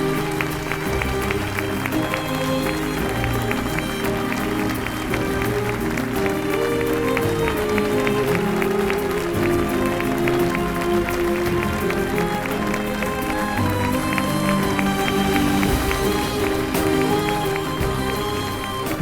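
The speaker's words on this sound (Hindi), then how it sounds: "लोग खड़े होकर तालियां बजा रहे हैं।" An audience stands and applauds in a drama scene, a sustained, even wash of many hands clapping with faint music underneath.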